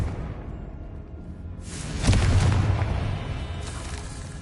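Spell blast in a Harry Potter video game: a deep booming explosion bursts in after a rising whoosh, then rolls off with crackling debris; a faint magical shimmer precedes and follows, no talk.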